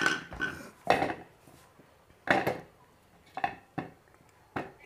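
Beetroot pieces dropped into a plastic vegetable chopper machine make a series of separate hollow clunks and rattles, about six distinct knocks spaced irregularly with quiet gaps between, close and fairly soft.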